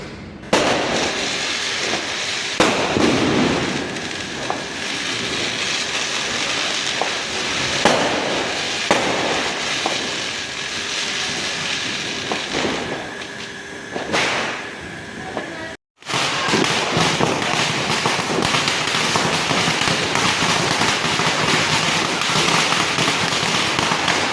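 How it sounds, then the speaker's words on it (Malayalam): Diwali firecrackers burst repeatedly in sharp cracks and pops over a constant crackling roar, some close and loud, others farther away, with no pause in the noise. "നിങ്ങൾ പടക്കം പൊട്ടുന്നതൊക്കെ നല്ല പോലെ കേട്ടില്ലേ?"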